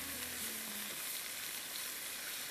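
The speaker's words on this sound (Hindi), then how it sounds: "इसमें मैं थोड़ी सी अदरक डाल रही हूँ चिकन के साथ, और इसको मैं फ्राई कर रही हूँ।" Chicken pieces with ginger fry in a pan, giving a quiet, continuous sizzle and crackle throughout.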